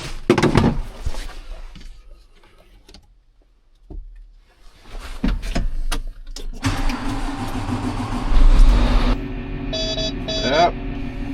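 A new German-built tractor's engine cranks and catches after clunks and knocks, then settles into a loud, close, steady running idle, with voices talking over it.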